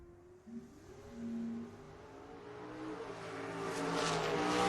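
A 1987 Mustang drag race car launches down the track, its engine note rising and swelling steadily in loudness over several seconds as it pulls away, with a broad roar building toward the end.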